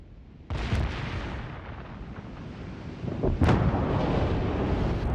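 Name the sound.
naval artillery firing in World of Warships: Legends video game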